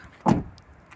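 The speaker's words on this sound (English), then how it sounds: "If I close the door here" A Peugeot 108 city car door swings shut with a single solid thump, close by and brief, with a faint rattle afterward and otherwise quiet surroundings.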